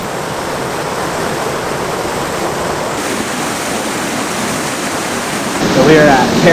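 Kerosene Creek, a warm stream near Rotorua, New Zealand, flows with a loud, steady, broadband wash that swells slightly near the end.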